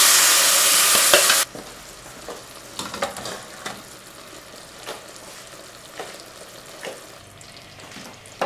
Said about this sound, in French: On va maintenant pouvoir ajouter la crème, ce qui s'appelle déglacée.